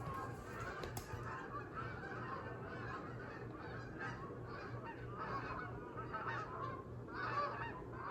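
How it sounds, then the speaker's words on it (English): Canada geese near a bird sanctuary honk repeatedly at moderate distance, their calls scattered and overlapping against a quiet outdoor background. "I hope I caught those Canada geese on the camera"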